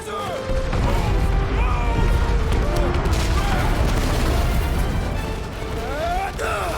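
Explosions thunder through a scene in the video game Marvel's Guardians of the Galaxy, a loud sustained barrage of blasts and crashing debris, with characters shouting over the chaos.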